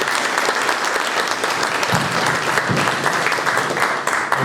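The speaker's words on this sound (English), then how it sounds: "round of applause for the panelists." Dense, sustained audience applause at an energy industry forum panel in Atlanta, loud and continuous with many hands clapping at once and no talk over it.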